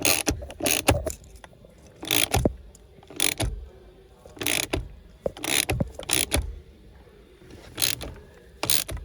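A ratchet tightens a new bolt on a Dacia Duster steering column, with bursts of sharp clicking pawl strokes separated by pauses, close up and without talk.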